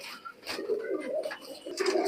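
Pakistani high flyer teddy pigeons coo in a loft, soft rolling calls rising and falling close by, with a few brief chirps and rustles between them.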